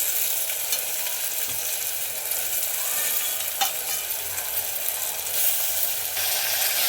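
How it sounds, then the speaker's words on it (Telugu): Tomato pieces fry in a pan over ginger paste for a chicken curry, giving a continuous, even hiss of sizzling oil with a few faint scrapes and clicks of stirring. "అవి గోలినవి టమాటా ముక్కలు వేస్తున్నా."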